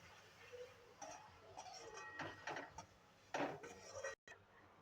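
Raw mango chutney is stirred in a pan, giving faint, close scrapes and clinks of a spoon against metal in a loose, uneven rhythm, with a brief silent gap near the end.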